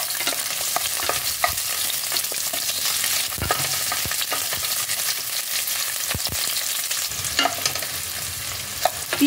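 Chopped onions are stirred and fried in hot oil in a pan for a broccoli vegetable curry, giving a steady close sizzle with repeated scraping clicks from a spoon throughout.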